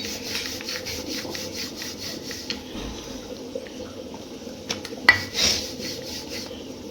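Roti being made on a wooden board: soft repeated rubbing and scraping strokes of dough against wood, close and steady, with a few light clinks of utensils and no talking.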